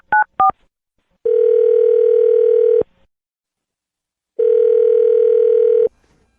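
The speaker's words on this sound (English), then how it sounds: "I'm going to dial her phone number right now" A few quick telephone keypad tones are followed by two long, loud steady tones from a phone line, each lasting well over a second with a pause between them.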